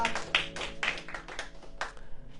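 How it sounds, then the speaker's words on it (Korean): Scattered, uneven handclaps from a church congregation during a worship service, a few sharp claps standing out over a soft, thin background, fairly faint and with no talking. "감사의 박수 돌리겠습니다."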